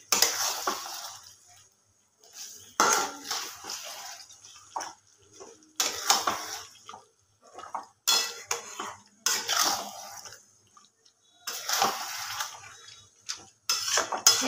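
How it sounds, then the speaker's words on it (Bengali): Chicken meat stirred and fried in a pot over a gas flame, heard as repeated bursts of metal utensil scraping and clattering against the pot, separated by short quiet gaps, close and fairly loud. "এবার গ্যাসটা একটু বাড়িয়ে দিলাম, এবার আবার কষবো"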